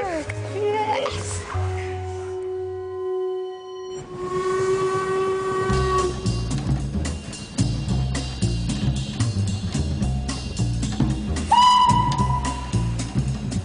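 A steam locomotive at the North Yorkshire Moors Railway engine shed sounds sustained whistle tones over a heavy, dense rumble of working machinery, loud and close throughout.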